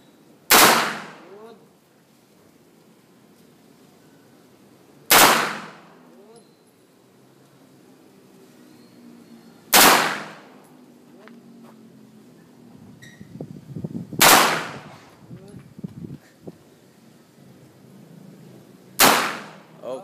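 Five sharp, loud MP5 submachine gun bursts fired outdoors, spaced about five seconds apart, each a short broadband crack with quick decay, followed by quiet gaps with faint background murmur.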